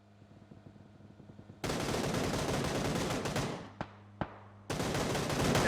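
Rapid automatic gunfire in the PUBG battle royale game bursts in after a quiet start. It roars on in dense, loud volleys, breaks off with two sharp single shots, then resumes at full intensity.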